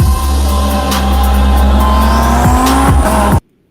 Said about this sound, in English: you hear the little whistle? It goes like. That's a turbo.